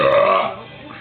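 One loud, close burp that rumbles out strongly at first, then tails off into a quieter, drawn-out croak, with no talking.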